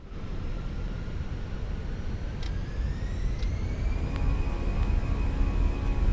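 An Airbus A320 airliner takes off in a flight simulator game, its engine roar steady and broad with a rising whine that climbs and then levels off, continuous and fairly loud with no talking.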